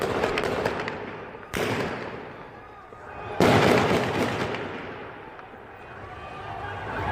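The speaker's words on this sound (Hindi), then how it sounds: "इसमें जो आवाज ऐसा लग रहा है बॉर्डर पर गोलियां चल रही हैं" Recorded bangs that resemble gunfire at a border crack out in sharp bursts, with two loud reports standing out among scattered pops, all under continuous talk.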